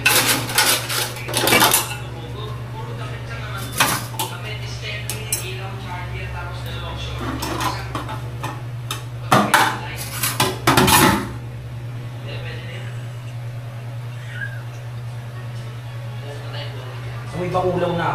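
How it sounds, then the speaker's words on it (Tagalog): Plates and cutlery clink and clatter in scattered bursts as dishes are washed, close by and fairly loud, with a steady low hum underneath and voices talking at times. "Hugas muna tayo ng pinggan."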